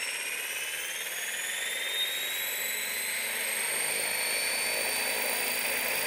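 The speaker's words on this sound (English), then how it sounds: "So we're going to do a takeoff to start with. And take off into a hobber." A Horizon Blade 550 X RC helicopter lifting off into a hover, a loud steady high-pitched turbine-like whine with rising and falling tones from the rotors and motor, close by and continuous with no speech.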